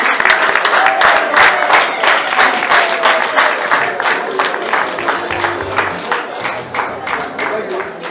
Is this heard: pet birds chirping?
no